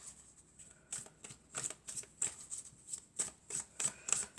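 Tarot cards are shuffled in quick repeated riffles and slaps, a crisp close-up rhythm of papery flicks that picks up pace, with no talking.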